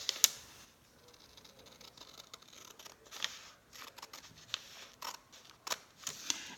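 Scissors snip through paper during a classroom lesson: a string of quiet, close, crisp cuts spaced irregularly, with a sharper click at the start and no talking.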